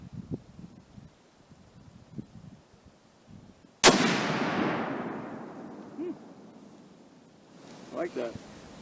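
A single booming shot from an EDM Arms Windrunner Hurricane XM .408 CheyTac rifle fired outdoors, a sharp loud crack with a long fading rumble, preceded by faint rustling and followed by voices talking.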